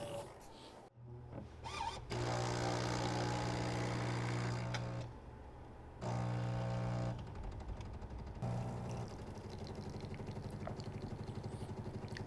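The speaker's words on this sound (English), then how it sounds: "when you're listening to the cold extraction process, the machine will have a very different sound to it. So there's a rhythmic kind of thunking" A Jura GIGA 10 coffee machine making a cold espresso by cold extraction, its pump thunking in loud rhythmic bursts with brief pauses between pulses, close and mechanical with no voices.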